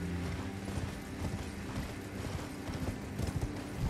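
A horse's hooves clip-clop at a steady trotting rhythm in the video game Elden Ring, fairly quiet and layered over a continuous bed of game ambience.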